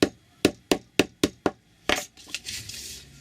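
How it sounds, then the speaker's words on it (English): A hammer strikes a staple into a handmade paper-scrap booklet, six sharp evenly spaced knocks followed by a couple of softer taps and rustling handling noise. "Staple it in, and with a hammer I just..."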